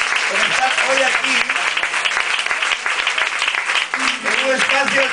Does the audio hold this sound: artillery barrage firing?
no